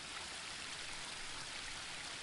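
A waterfall in the video game Unwritten Tales 2 rushes in an even, continuous wash of falling water, steady and moderately loud, with no voices.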